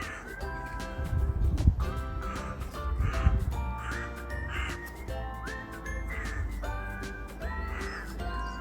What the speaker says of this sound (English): I'm sure you can hear the birds all in the background chirping away.